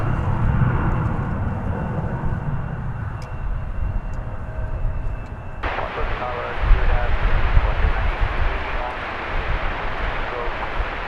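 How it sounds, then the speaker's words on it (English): American Airlines Airbus A321 on the runway at DFW Airport, a broad steady jet-engine roar that swells partway through, mixed with radio chatter and voices. "It is American Flight 1832 going to Denver in Airbus A321 on runway DFW."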